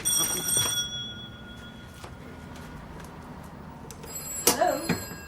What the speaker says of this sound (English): Yes, the telephone's ringing.